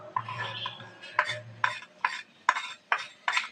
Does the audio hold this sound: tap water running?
no